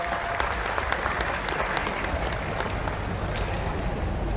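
A large crowd claps loudly and steadily at a women's Maharashtra Kesari wrestling final, dense sustained applause with scattered sharper claps and a faint murmur of voices underneath.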